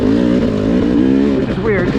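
A 2023 Beta dirt bike engine revs on a test ride, a loud, close, buzzing drone whose pitch wavers up and down, with a voice talking over it.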